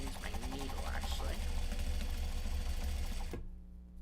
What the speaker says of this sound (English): Please continue stitching nicely.